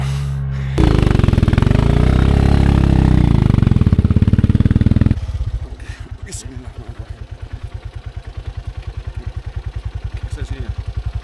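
An ojek motorcycle taxi climbs a mountain trail on the way up Mount Sumbing, its engine loud and strained at first, then settling into a steady, rapid chugging putter close by.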